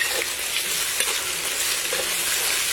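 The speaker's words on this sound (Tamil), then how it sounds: "பூண்டு நல்லா வதங்குது" Steady, close sizzling of garlic frying in hot oil, a dense crackling hiss that stays even throughout with no talking.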